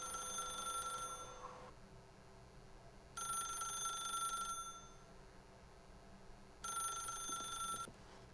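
A telephone in the video game The Stanley Parable rings in three separate bursts with pauses between them, a bright, electronic-sounding bell heard alone at moderate volume.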